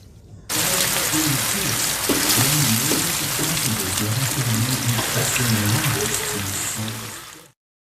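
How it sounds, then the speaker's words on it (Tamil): Steady crackling sizzle of fish frying in hot oil, continuous and fairly loud, with a voice talking over it throughout. "எண்ணெய் சூடானதும் ஆயில் ஹீட்டானதும் நம்ம பரட்டி வச்சிருந்த எல்லா மீனையும் பொரிக்க"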